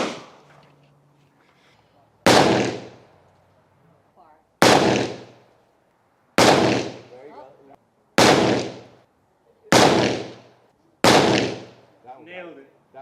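Six sharp, loud rifle shots crack out one by one at target shooting, each roughly two seconds apart with a short decaying echo and quiet pauses between.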